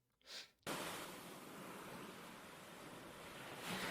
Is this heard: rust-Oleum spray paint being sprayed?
no